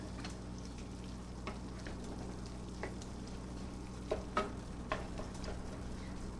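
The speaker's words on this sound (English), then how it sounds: "I'm going to stir that up now. Just keep letting it cook." Meat sauce cooked without oil, using low-sodium beef broth, sizzles and bubbles softly in a pan while a utensil stirs it, with a few faint scraping clicks over a steady quiet background.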